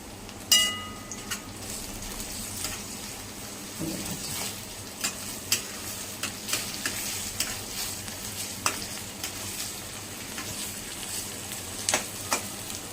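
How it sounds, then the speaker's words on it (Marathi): Chopped onion with garlic-ginger paste fries in oil while a spoon stirs it, giving a continuous soft sizzle under repeated light scraping and tapping strokes against the pan. "आता आपण यांना चांगलं मिक्स करूया तेलामध्ये चांगलं भाजून घेऊया"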